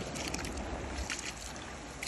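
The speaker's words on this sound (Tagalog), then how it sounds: "Lakas ang tubig, oh." Strong floodwater rushes over a road overflow, a dense, continuous roaring wash that is steady and close and runs alone for about two seconds.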